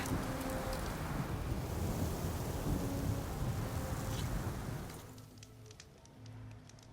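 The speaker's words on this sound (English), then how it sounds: "I wonder how long these gusts can keep it up." Wind gusts in the video game Horizon Forbidden West make a loud, broad, rushing roar that holds steady for about five seconds, then falls away to a quieter ambient hum with faint tonal background sound.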